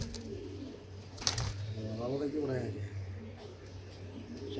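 Young racer pigeons give soft, rolling coos close by while someone talks over them.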